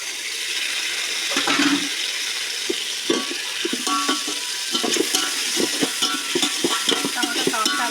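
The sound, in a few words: tomatoes frying in a pan for chicken biryani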